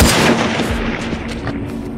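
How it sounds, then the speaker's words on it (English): Enemy gunfire in the first-person shooter game Hunted, a loud sharp shot at the start followed by a booming tail and a few fainter pops. "Just get him to shoot again without hitting me."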